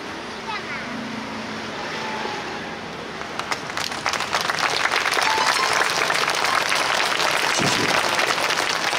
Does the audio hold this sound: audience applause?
yes